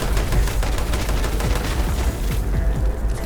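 Dense gunfire in Fallout 76 Nuclear Winter, rapid overlapping shots and booms crackling steadily throughout a close firefight with no talk.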